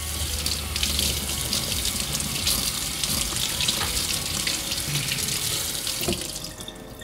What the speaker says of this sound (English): Now let's turn on some water to test it out to see whether or not it's actually waterproof or water resistant.